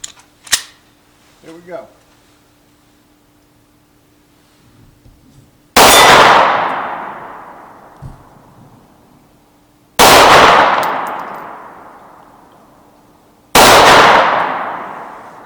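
Three loud, sharp shots from an FN 509 9mm striker-fired pistol aimed at steel targets, spaced a few seconds apart, each with a long ringing decay; a brief voice speaks before the first shot.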